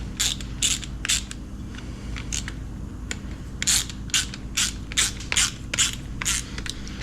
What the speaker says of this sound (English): I'll go ahead and tighten these little bolts up